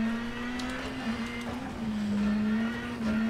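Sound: rally car interior sound from a video game

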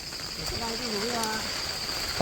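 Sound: rain falling at night

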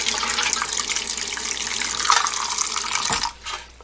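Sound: rinsing soaked rice grains under running tap water

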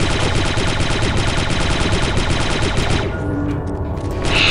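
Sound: shotgun gunfire in Star Wars Republic Commando video game

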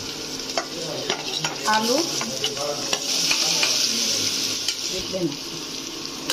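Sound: stirring potatoes frying in a pan

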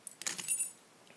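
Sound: keys jangling on a shutter lock

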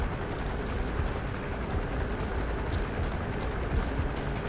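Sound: helicopter in video game Metal Gear Solid V: The Phantom Pain

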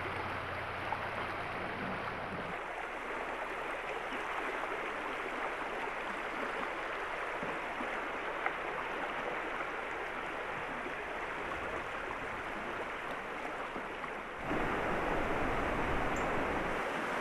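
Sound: Crystal River flowing over riffles

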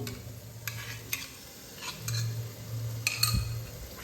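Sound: stirring whisked yogurt into cooking masala

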